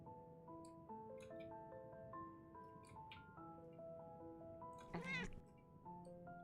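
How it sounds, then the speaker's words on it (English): A pet cat meows once, close and brief, over a steady melodic video game soundtrack playing underneath. "My cat's having an issue."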